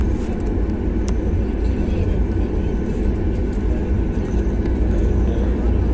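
Large passenger jets at a long airport give off a loud, steady roar of engine noise that holds without a break, with a few faint clicks on top.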